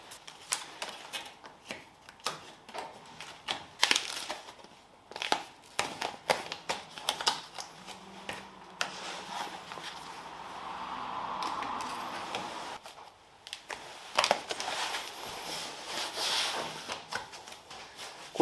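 Aluminum tape is pressed and rubbed down to hold a smoothed front bumper in place on a Mazda RX-7 FD3S under restoration, giving close, quiet rustles, scrapes and scattered taps in an irregular rhythm.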